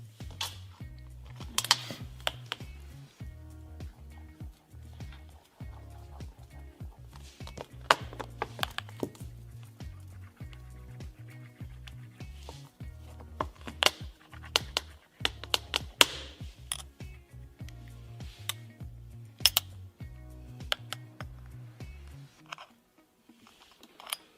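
Metal keys scrape and tap against the screen of an iPhone 8 in a durability test, making dense, irregular clicks and scratches close up over a low, steady background beat.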